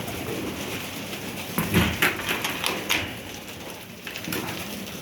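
Pigeons coo in a dovecote during an evening round of the birds, a few soft throaty calls mixed with light fluttering and taps, fairly close against a quiet background.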